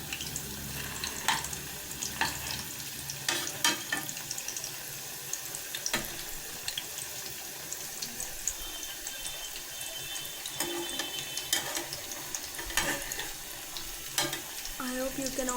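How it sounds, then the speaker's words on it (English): Cabbage vada patties fry in hot oil with a constant crackling sizzle, dotted with sharper pops and clinks at irregular intervals. "the chitter chatter sound which is coming from the frying of vada"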